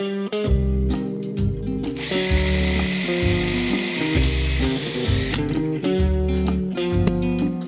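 A drill press bores a hole through wood with a Forstner bit, giving a steady, close motor drone with a repeated ratcheting churn and grinding rises as the bit cuts.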